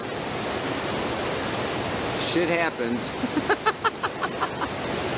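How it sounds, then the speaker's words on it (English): An outdoor river flows in a continuous, fairly loud rush of water; someone speaks briefly over it partway through, and the water noise carries on beneath his voice. "Hope that river's not too loud."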